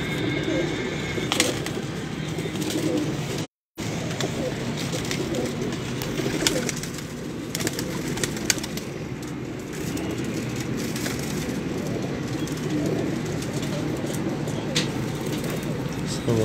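Pigeons of a prized breed coo softly under constant broadband noise, with faint bird calls and a brief dropout partway through.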